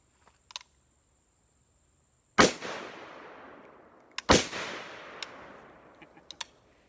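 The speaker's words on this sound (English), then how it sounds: "First shots out of this thing after I've gotten the brake or the Bolton gas block on" Two loud, sharp AK47 rifle shots outdoors, about two seconds apart, each with a long decaying echo; the rifle has a Venom Tactical gas block and a slant brake. Small clicks and handling noises come before and after the shots.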